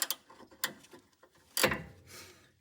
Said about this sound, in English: So now I'll use a gear wrench style